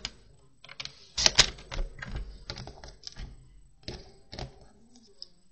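Card paper for a simple Christmas card is trimmed close, heard as a run of crisp snips and light taps, close and fairly quiet.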